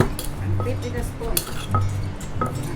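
Som tam papaya salad being tossed and flipped with a spoon, giving a few light clinks and scrapes spread unevenly over a low background murmur.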